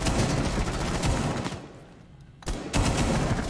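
Rapid automatic gunfire in a first-person shooter game, loud and dense bursts that fill the first second and a half, a brief lull, then renewed sustained firing to the end.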